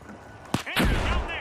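Rocket launch and frag grenade in The Finals: a sharp crack followed by a louder, rumbling explosion that rings out briefly, close and punchy.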